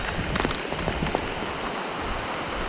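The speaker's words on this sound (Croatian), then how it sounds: "Počela je parat kiša" Large drops of rain start pouring down in the Catalan Pyrenees on a motorcycle trip through Spain, a steady close hiss with a few sharper patters, and no voices.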